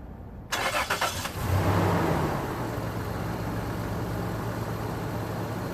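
A 1997 Toyota 4Runner engine, just after an engine flush, cranks with a quick rattling starter, catches, and revs up loudly before settling into a steady, rumbling idle nearby.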